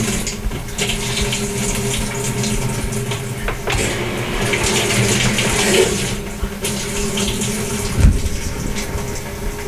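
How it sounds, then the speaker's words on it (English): A GE washer's hot water valve fills the drum, producing a steady, loud rush of flowing water that runs unbroken throughout, with one dull thump near the end. "we'll press the start, and this will toggle the hot water off and on"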